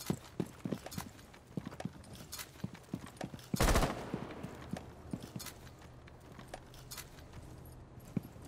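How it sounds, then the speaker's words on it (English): Gunfire in the tactical shooter Rainbow Six Siege comes as scattered sharp shots and bursts, with one loud blast in the middle, amid clattering footsteps and game noise. "They're shooting at you."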